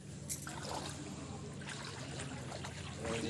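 Floodwater flowing around homes in a waterlogged area, a soft steady trickling and rushing of water heard throughout at moderate distance, with no voices.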